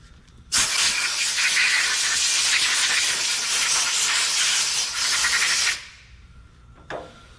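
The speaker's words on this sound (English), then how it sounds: "right now what I'm doing with the brake cleaners, and I'm getting rid of all the oil" Brake cleaner sprayed from an aerosol can to strip oil off an Allison 4000 series transmission during a filter and fluid service, a loud steady hiss lasting about five seconds, then a short faint burst near the end.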